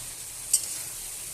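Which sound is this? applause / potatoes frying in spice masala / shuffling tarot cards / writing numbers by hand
potatoes frying in spice masala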